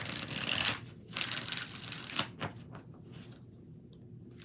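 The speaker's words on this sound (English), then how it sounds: "3 shuffles." A deck of cards is shuffled by hand during a live tarot-style reading, heard as several close, papery riffling bursts separated by short pauses, with no talking.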